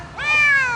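A single meow from a Ragdoll cat in a pet store, short and rising then falling, sounding close and fairly loud.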